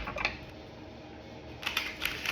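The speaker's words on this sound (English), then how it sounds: "I've never used these cards before, so they are very stiff. So my shuffling is about to be atrocious." A deck of stiff, brand-new tarot cards is shuffled close by in two short bursts of crisp, clicking riffles, with a quieter pause between them and no talking.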